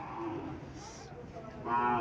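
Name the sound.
cow mooing at cattle market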